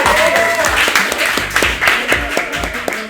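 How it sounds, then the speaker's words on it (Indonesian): Studio audience clapping for a guest named Abil, dense steady applause with distinct claps up close, with voices talking underneath. "Tepuk tangan dulu dong buat Abil"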